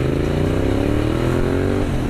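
A Yamaha MT-07 motorcycle revs hard at close range during a wheelie, its engine note climbing steadily in a loud, continuous drone before easing slightly near the end.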